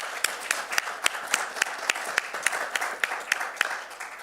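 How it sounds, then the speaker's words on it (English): A conference audience applauds the panel members, a modest round of sharp, scattered claps that holds steady for a few seconds at moderate distance. "Maybe we can have an applause for them."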